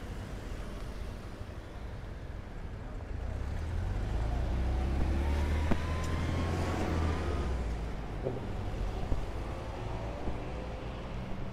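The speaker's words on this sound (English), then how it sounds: "Gotta wait for some traffic." Road traffic in the Queru Queru neighbourhood of Cochabamba, Bolivia, near a park after rain: a vehicle engine rumbles in close and swells as it passes, with a steady background of street noise and wind.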